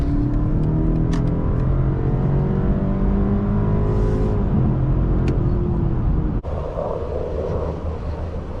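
A 2024 BMW 530i xDrive accelerates steadily from the cabin, its engine note climbing through gears under constant road rumble before an abrupt cut to quieter, steadier driving noise.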